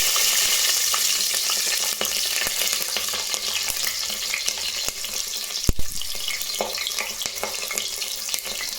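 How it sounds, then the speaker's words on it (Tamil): Mustard seeds frying in hot oil in a pan while cooking sambar rice, a steady close sizzle and crackle running throughout with a brief louder knock or clatter near the middle. "அது கூடவே எண்ணெய் சேர்த்துக்கலாம். கொஞ்சம் கடுகு போட்டுக்கலாம்."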